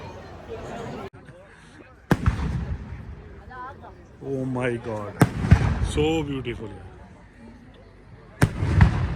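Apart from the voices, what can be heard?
fireworks and firecrackers exploding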